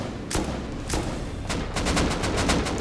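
Gunfire trades back and forth during a clan base raid in the video game Rust, with sharp single shots spaced apart and then a rapid burst of repeated shots, loud and punchy throughout.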